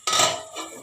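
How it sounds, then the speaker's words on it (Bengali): A metal lid set down on a cooking pot, one short bright clang that rings briefly, then a faint rattle as it settles. "ঢাকা দিয়ে দিলাম"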